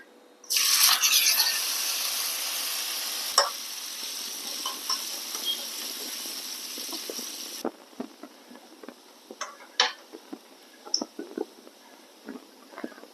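Small red shallots crackle and sizzle loudly in hot oil in a pan, a dense hiss that drops after several seconds into quieter scattered pops and stirring clinks, with no voices.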